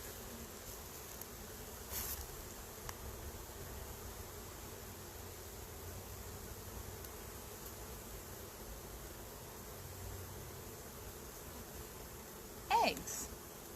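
Honey bees buzzing around an open hive as a frame is lifted, a continuous faint droning swarm hum close by, with a brief handling knock near the end.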